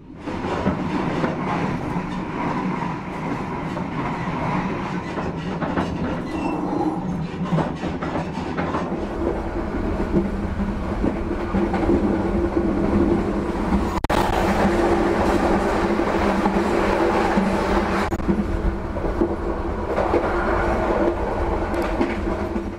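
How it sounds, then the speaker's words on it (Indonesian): A train rumbles steadily past at close range through a station in Indonesia, its wheels clacking rhythmically over the rails, loud and continuous for the whole stretch. "berarti bakal ada kereta yang lewat"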